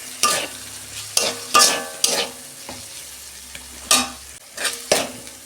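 A tomato added to ginger and cumin frying in a pan, stirred with a spoon in sharp scraping strokes over a steady sizzle, close and loud, about eight strokes spread unevenly with no talking.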